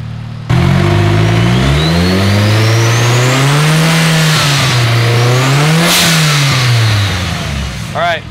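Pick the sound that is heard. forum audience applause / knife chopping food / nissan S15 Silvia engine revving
nissan S15 Silvia engine revving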